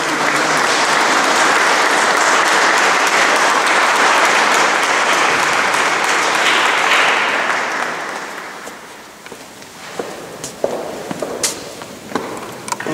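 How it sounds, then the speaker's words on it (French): A church congregation at a Catholic Mass in La Palme applauds to encourage catechumens, a dense sustained burst of clapping that fills the space for several seconds, then thins and fades into scattered claps and a few louder knocks. "nous pouvons applaudir pour encourager ces..."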